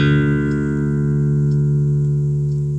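A bass guitar with round wound strings rings out with one deep, sustained note that fades slowly and stays steady and clear, with no other sounds.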